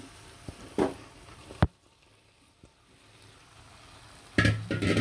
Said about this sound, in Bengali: ভালো করে এভাবে নাড়াচাড়া দিয়ে অবশ্যই মশলার সাথে সবগুলো মাংস